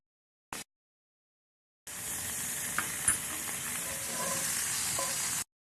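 Heavy cream and Dijon mustard poured into a hot pan after searing steaks, setting off a loud, sustained sizzle and hiss lasting several seconds after a brief initial burst, with no talking.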